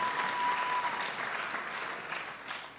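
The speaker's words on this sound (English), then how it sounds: "Give yourself a round of applause." Audience applause at a minimum wage bill signing, a dense burst of many hands clapping together that stays strong then slowly thins, with some cheering voices mixed into the crowd.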